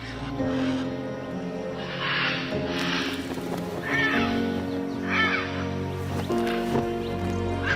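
Scarlet macaws at sunrise in Copan, Honduras, giving several loud, harsh squawking calls in separate bursts over a sustained tonal musical bed.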